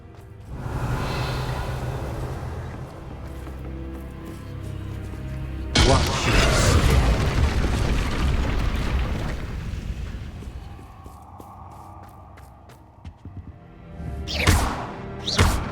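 Bombarda spell blast in Hogwarts Legacy, a heavy booming burst that erupts midway with a roaring, rumbling tail, followed later by sharper whooshing spell effects and a brief voice.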